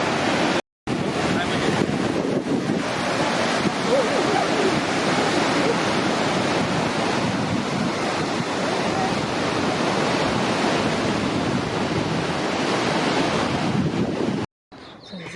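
Loud, steady roar of rushing white water from a dam release at the Aratiatia Rapids, New Zealand, filling the whole clip, broadband and unbroken apart from a brief dropout near the start and end.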